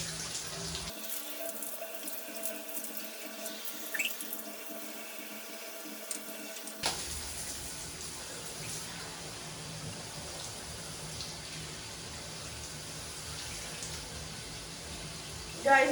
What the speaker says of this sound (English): I will take a shower with this, see how it functions.